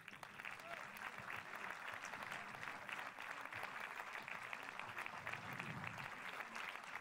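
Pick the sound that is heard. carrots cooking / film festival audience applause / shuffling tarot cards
film festival audience applause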